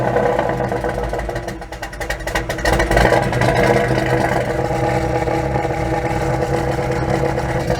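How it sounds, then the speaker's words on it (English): Pickup truck engine fitted with Holley Sniper EFI fuel injection, settling into a steady, rumbling idle after starting, with a continuous low throb and a brief surge partway through. "Now we're gonna start the truck."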